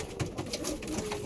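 A pair of pigeons cooing close by, soft low burbling coos over a steady background murmur.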